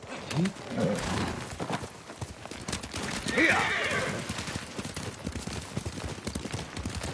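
Horses in Ghost of Tsushima, with hooves clip-clopping and a neigh heard near and moderately loud under faint background talk, set amid a group of mounted samurai preparing to ride.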